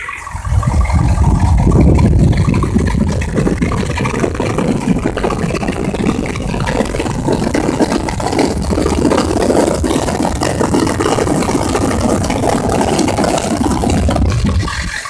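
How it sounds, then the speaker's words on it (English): A motor being revved up while a Facet fuel pump works to keep up, giving a loud, steady, broadband engine roar that runs continuously throughout, close to the listener and with no voices. "as I start revving the engine up, the pump starts trying harder to keep up"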